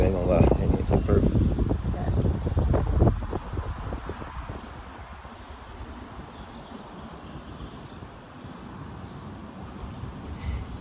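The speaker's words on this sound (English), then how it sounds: "That wind do feel good, I ain't gonna lie. That wind feel perfect." Outdoor wind buffets the microphone with a loud, rumbling gust for the first few seconds, then eases into a steadier, softer blowing that continues to the end.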